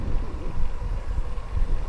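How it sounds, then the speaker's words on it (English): Steady wind buffets the microphone outdoors during a bike-packing ride on a Trek Checkpoint SL5 carbon gravel bike, a continuous low rumble with gusts rising and falling throughout, with no voices. "a bit windy here"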